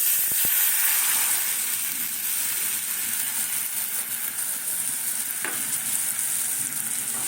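Steady loud sizzle of tamarind pulp hitting hot oil with fried cumin, a continuous frying hiss with faint stirring and a brief clink near the start.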